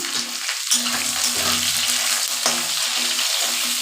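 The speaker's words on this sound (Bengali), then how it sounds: "আলুখিনি ধুনীয়াকৈ ফ্ৰাই কৰিলোঁ এতিয়া বেঙেনাখিনি দি দিম" Potatoes and eggplant fry in hot oil in a pan, giving a steady, close sizzle that holds throughout, with occasional stirring clatter and no talking.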